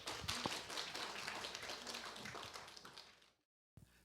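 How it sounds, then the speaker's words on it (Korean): An audience at a tea culture academic symposium claps for a speaker being welcomed to the podium, a dense patter of hands that fades out and falls silent, followed by a brief burst of renewed sound. "큰 박수 부탁드리겠습니다"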